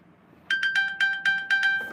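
Phone ringtone beginning abruptly after a quiet moment, a bright repeating electronic tone pulsing in quick regular bursts, fairly close and clear with no talking over it.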